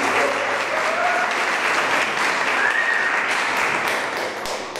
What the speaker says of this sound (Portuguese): palmas para as mulheres